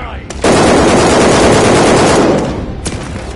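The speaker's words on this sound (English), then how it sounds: "they're shooting through the wall," Sustained, loud machine-gun fire in a video game, shots tearing through a wall in one long dense burst of about two seconds, followed by a trailing rumble and one more sharp crack.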